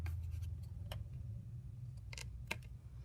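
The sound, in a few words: scissors trimming edges of paper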